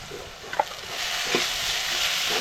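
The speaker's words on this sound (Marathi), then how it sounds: "मसाले आपल्याला हे व्यवस्थित परतवून घ्यायचे आहे" Spices with turmeric and garam masala sauté in a hot pan for a crab curry, with a steady sizzle and a few quick stirring scrapes near the start.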